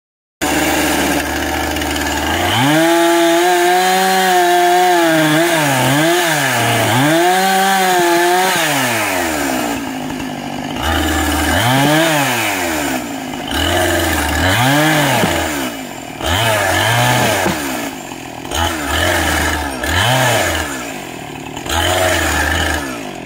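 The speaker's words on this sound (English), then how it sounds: "So, I've got it sawn pretty close to being all the way through." A chainsaw bucks a fallen tree under compression and tension in a forest, running loud and close for the whole stretch, its engine revving up and bogging down repeatedly as the chain cuts through the log.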